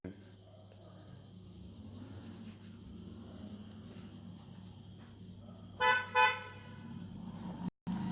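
Two short car horn honks sound outside in quick succession, clear but somewhat distant, over a low room hum and faint scratching of a pen drawing on paper.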